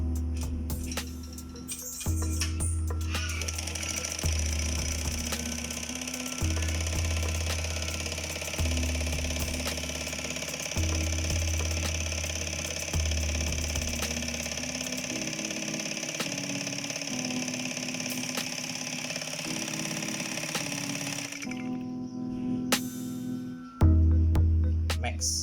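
A Singer 224 electric sewing machine running without needle or bobbin, a steady mechanical whir with a rhythmic low thumping that pulses evenly, then slows and stops near the end before a brief restart.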